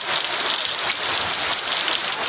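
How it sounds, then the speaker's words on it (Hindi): Evening rain after a heavy downpour, now easing to a light drizzle, patters steadily on surfaces in a soft, even hiss with no voices. "आज बहुत तेज़ बारिश हुई है हमारे यहाँ और अभी तो थोड़ा थोड़ा बूंदाबांदी हो रही है"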